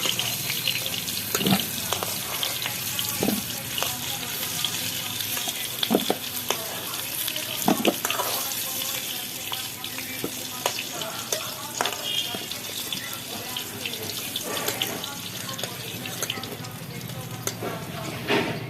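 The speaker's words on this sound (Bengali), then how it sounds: "কাঁকড়ো আলু একসঙ্গে ভাজা করে নিলাম কাঁকরোল লাল লাল করে ভাজা হয়ে গেছে" Pointed gourd and potatoes frying together in oil, a continuous loud crackling sizzle with repeated clinks and scrapes of a spatula stirring in the pan.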